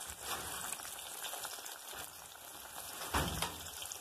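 Breaded chicken breast fries in hot oil in a steady, dense sizzle like light rain, with a brief louder crackling surge near the end; no talking.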